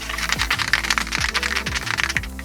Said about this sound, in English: just shake this up like you would a spray paint can.